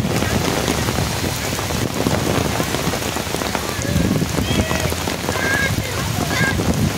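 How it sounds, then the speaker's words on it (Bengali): Heavy rain pours down at a zoo garden in Mumbai, a dense, loud, unbroken hiss of drops hitting surfaces, with faint high calls or voices briefly showing through the downpour. "জু গার্ডেনেই এখন আমরা রয়েছি, আর বৃষ্টিটাও প্রচণ্ড বেগে এসেছে।"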